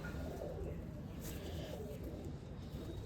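Soft, low cooing of a Sialkoti pigeon, fairly close, repeating over a constant background hum.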